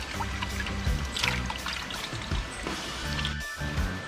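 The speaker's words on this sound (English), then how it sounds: "Just squeeze off the excess water." Excess water squeezed by hand from raw pork ribs, running off and dribbling into a container outdoors in Jamaica; a close, steady trickle and splash with soft handling sounds, no talking.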